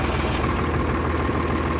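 A Sonalika tractor engine idles steadily at close range, a continuous low rumble with a faint vibrating hum and no talk over it.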